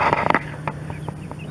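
Polish chickens on a small farm give a few short, close clucks in quick succession, followed by softer scattered clucks over a faint background hum.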